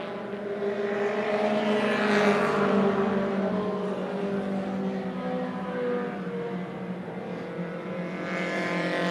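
Race cars at Tucson Speedway run in a tight bunch near the front of the field. Their engines make a continuous, loud, layered drone that swells slightly as the pack passes, with no talk.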